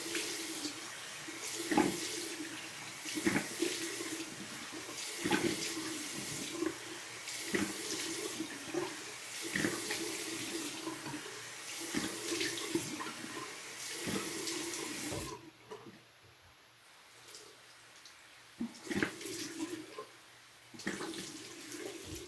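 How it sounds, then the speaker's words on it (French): A tap runs steadily into a sink while someone rinses their face with cold water. The splashing and gurgling goes on, then grows quieter near the end as the flow changes, close by with no talk. "on se rince avec de l'eau froide"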